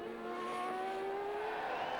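A 1991 McLaren Formula One car at the Brazilian Grand Prix passes close by with a loud, high-pitched engine whine that rises and falls steadily in tone over two seconds.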